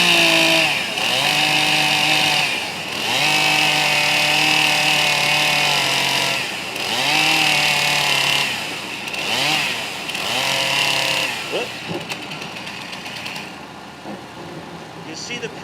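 A chainsaw cuts wood at a safety demonstration, engine revving loud and close in long sustained bursts with pitch dips as the chain bites, then easing off near the end while someone talks over it.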